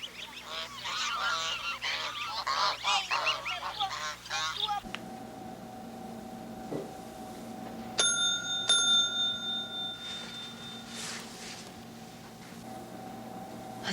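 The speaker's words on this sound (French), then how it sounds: "Allez les oies. Les petites oies, les grosses oies, les moyennes oies." Geese honking at feeding time, a few distinct nasal honks close by after a stretch of a person calling out, with a bright bell-like ring among them.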